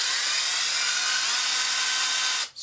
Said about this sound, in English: so there's the electric screwdriver